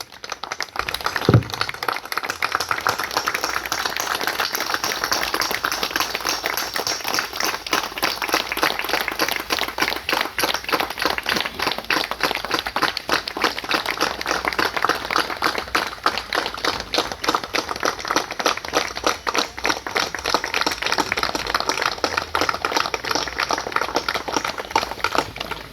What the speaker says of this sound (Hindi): हम लोग खड़े होकर ताली बजाएं